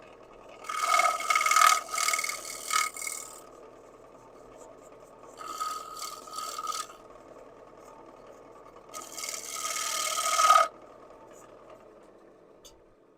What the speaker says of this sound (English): And I can finish sanding this.